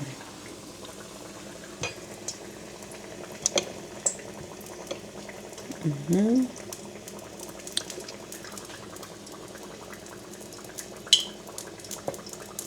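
Banana turon frying in cooking oil, giving a steady, even bubbling sizzle throughout with a few faint clinks and one brief louder scrape midway; no one speaks.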